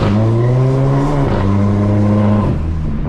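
Volkswagen Jetta TSI with a 3-inch downpipe and original rear muffler revving loudly up close, a deep droning exhaust tone that rises, dips briefly and climbs again over about three seconds.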